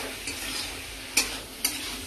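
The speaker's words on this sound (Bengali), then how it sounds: "চিকেনটা তোমার একটু ভালো করে ভাজা ভাজা করতে হবে" Chicken with tomato and ginger-garlic paste fries in a kadai with a continuous close sizzle, interrupted twice by sharp scraping strokes of a spoon against the pan.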